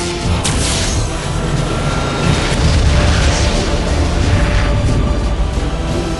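The Lance of Lucatar weapon firing and exploding in the space battle game Battlefleet Gothic Armada: a dense, continuous roar of booming blasts and rumbling energy, loud and sustained throughout with no voices.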